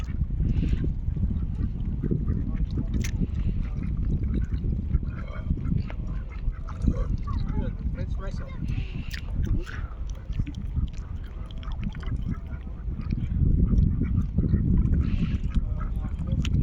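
Ducks quack and honk in a noisy cluster while being fed at night, with a constant low rumble of background noise and faint talk in places.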